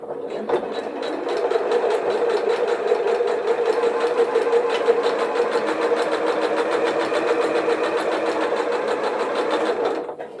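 Sewing machine stitching a zipper pouch at stitch length 3, a fast, steady whirring hum running continuously close by for about ten seconds before stopping.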